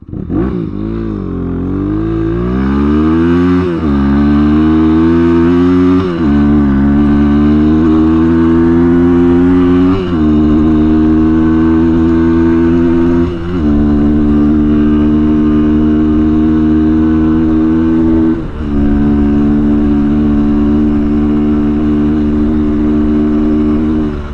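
A Kayo K6-EFI 250cc fuel-injected four-stroke dirt bike accelerates hard toward top speed, its engine loud and close, revving up through several gear changes with a steady pitch climb and brief dips between shifts, with no speech.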